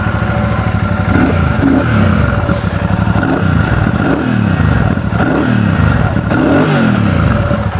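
Royal Enfield Bullet 650 parallel twin motorcycle engine revving hard and steadily, with loud, close exhaust rising and falling in repeated swells and no talk over it.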